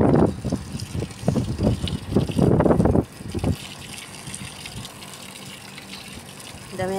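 Water poured generously onto a potted plant with shallow, sunken soil in a rooftop garden, splashing and gushing in bursts for about three seconds, then trickling quietly afterward.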